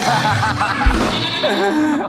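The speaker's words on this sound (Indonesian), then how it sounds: "tadi kenapa ada suara mbek?" A goat bleats loudly and close by in a studio setting, a wavering cry over a lively background with a brief thump near the middle.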